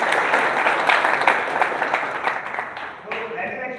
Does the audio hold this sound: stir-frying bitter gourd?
no